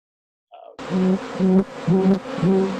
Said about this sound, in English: These are bees flying wild in a Tustin backyard.